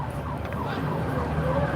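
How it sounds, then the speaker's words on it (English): Albuquerque police car sirens wail in the distance, a faint sustained rising and falling tone under steady street noise and crowd murmur. "I think I hear their sirens."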